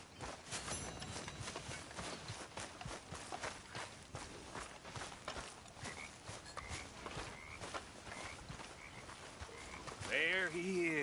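Horse hooves clip-clopping steadily in the Red Dead Redemption 2 video game, a continuous rhythmic gait beneath game music and ambience, with a brief louder flourish near the end.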